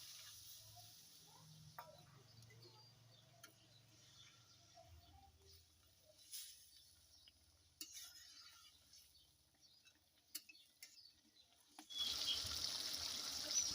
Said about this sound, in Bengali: এ পর্যায়ে জল দিচ্ছি।